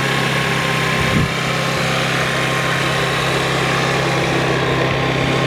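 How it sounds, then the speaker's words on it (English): A Genuine Buddy 125 scooter engine idles high and fast, a steady buzzing drone with constant vibration held at close range, with no voices. "This is a Genuine Buddy 125. Very high idle, but it does calm down."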